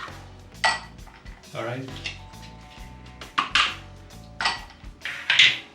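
Ice and espresso being stirred in a glass to chill it for freddo espresso, bright ringing clinks and rattling in bursts against the glass, close and loud, with a brief spoken word.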